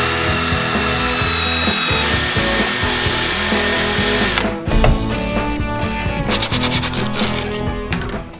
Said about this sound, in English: so I got a step drill bit.